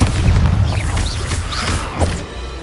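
The Bombarda blasting spell from Hogwarts Legacy sets off a deep, rumbling explosion with a heavy low boom and scattered crackling debris that fades out over a couple of seconds.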